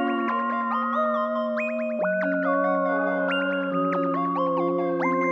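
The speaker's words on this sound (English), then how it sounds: "Next thing I added was this chorus pluck." Bright synth chorus plucks built from two saw waves, one pitched up, play a clean melodic line with sustained chords underneath, finished with reverb; steady and alone with no talking.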